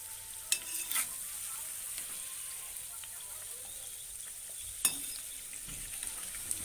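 Samosas deep-frying in hot oil while being turned, a steady soft sizzle with a couple of brief clinks or stirring knocks; no talking.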